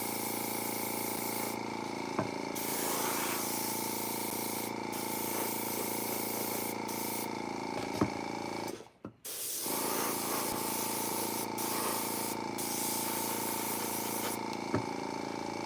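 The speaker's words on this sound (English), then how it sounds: "Will I have enough paint in the airbrush?" An airbrush sprays paint in a steady, continuous hiss close by, broken by one short gap near the middle before the spray resumes at the same level.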